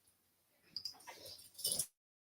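A dog whimpers indoors, a faint brief whine that rises into a louder high yelp before cutting off abruptly.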